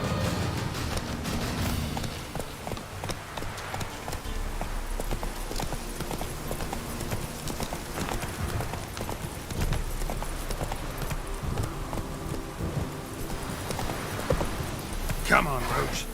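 Rhythmic clip-clop of the horse Roach galloping in a video game, steady hoofbeats throughout with a voice talking over them.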